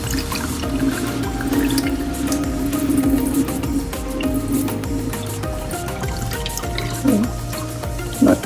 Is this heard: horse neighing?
no